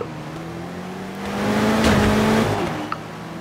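In the racing game Forza Horizon 3, a car engine revs at the race start, its drone swelling louder around the middle before easing back, with a faint tick near the end.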